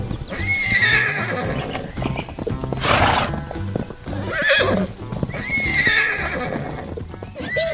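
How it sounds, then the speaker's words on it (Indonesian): Horses in a green field neigh and whinny repeatedly between bursts of clip-clopping hooves, loud and close, with calls recurring every few seconds over continuous trotting. "kuda-kuda yang lucu sedang bermain di tengah lapangan hijau, berlarian dengan ceria"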